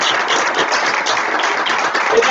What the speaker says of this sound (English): Just let's give them all a round of applause.